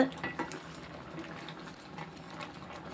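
Dried fish curry with vegetables bubbles steadily in a pot, a soft continuous simmering texture with faint irregular pops, close and fairly quiet, no voices.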